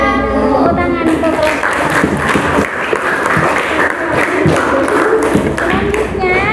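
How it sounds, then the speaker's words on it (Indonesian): Classroom applause follows a student presentation, a dense patter of many hands clapping throughout at steady loudness, with voices talking over it. "Tepuk tangan untuk"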